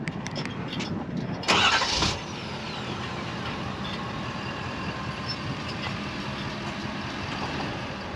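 A warm 2023 Ford F-350 diesel pickup engine cranks briefly and catches, then settles into a steady, low diesel idle that rumbles on without change.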